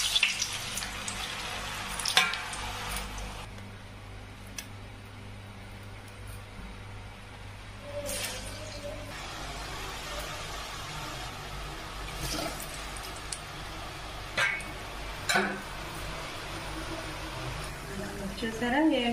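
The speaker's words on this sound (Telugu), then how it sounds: "చూసారా వేగుతున్నాయి బాగా" Janthikalu, a snack of foxtail millet and moong dal, deep fry in oil with a soft, continuous hiss and bubbling under someone talking, with occasional louder crackles.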